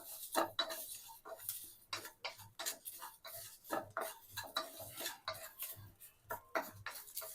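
Asafoetida powder and rock salt dry-roast in a pan as a metal spoon scrapes and clinks against it in a quick, regular rhythm of close stirring strokes.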